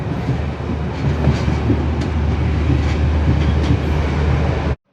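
A night mail passenger train on the Jaffna to Mount Lavinia line in Sri Lanka rumbles loudly from onboard, a steady rolling roar with faint rhythmic clatter, cutting off abruptly at the end.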